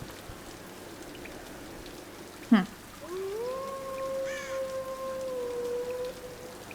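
Steady rain hiss falls across a Tomb Raider game scene, a constant soft wash beneath a brief thump and a long tonal in-game sound, with a single short murmur from a player.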